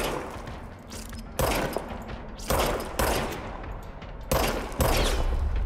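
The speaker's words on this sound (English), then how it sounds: "Now I have a gun. Fire service weapon" Service Weapon gunfire in the video game Control: five or six loud, sharp bursts at irregular intervals, each a sudden blast that decays over about a second, with no talk.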